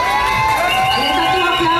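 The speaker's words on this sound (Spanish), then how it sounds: "Ahí están tus aplausos, Tarsia." A pageant audience at a children's teen models gala final in Venezuela cheers continuously and loudly, a dense crowd roar with shouts and whoops filling the short stretch.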